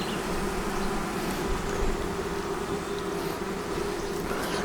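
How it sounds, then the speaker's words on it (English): A dense swarm of honeybees with a Chilean queen buzzes steadily inside a hive, a close, continuous drone with a slightly shifting pitch. "You can hear a different pitch of the bees."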